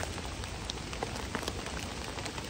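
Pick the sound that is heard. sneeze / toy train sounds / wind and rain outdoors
wind and rain outdoors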